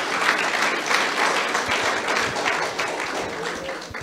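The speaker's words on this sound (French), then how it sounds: "Clap for yourself." A church congregation bursts into sustained applause, many hands clapping together in a dense, even roar that fills the room for several seconds, with no voices rising above it.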